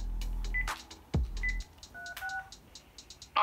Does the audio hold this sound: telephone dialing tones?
yes